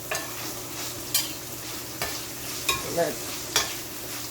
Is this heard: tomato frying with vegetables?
yes